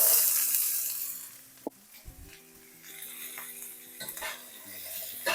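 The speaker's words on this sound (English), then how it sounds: "you want to make sure that you're moving things around so that they don't burn" Onions and carrots stir-fried in high smoke point oil for shrimp fried rice, with a soft steady sizzle, scraping utensil strokes and a few sharp clinks against the pan, fairly quiet and close.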